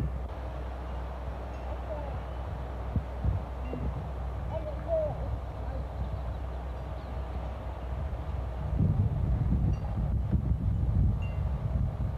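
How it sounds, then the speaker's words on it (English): Steady wind buffeting a microphone outdoors, a low continuous rumble that swells louder near the end. "It's windy"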